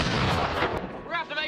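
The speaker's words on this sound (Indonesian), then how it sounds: "Karena suara ledakan yang dihasilkan membuat getaran yang cukup hebat" Improvised explosives go off in a film, with a loud, booming blast that rolls on for under a second before fading into a quieter rumble.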